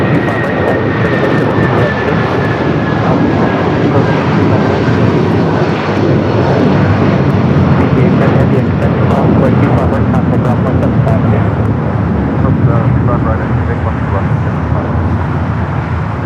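An Air Canada Rouge airliner at LAX roars loudly and steadily with sustained jet engine noise, a rising whine fading in the background.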